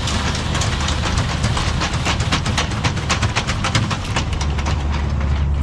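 Powered tonneau bed cover on a 2025 Tesla Cybertruck retracting, a loud continuous mechanical rattling with rapid clattering, train-like clicks and a hissy whir, close and steady throughout with no talking.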